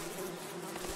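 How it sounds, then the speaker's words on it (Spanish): Bees in the video game Above Snake make a continuous close buzzing hum around a beehive, steady and unbroken through the short moment. "Dime que hay aquí unas abejas."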